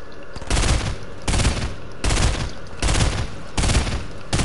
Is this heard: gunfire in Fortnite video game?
yes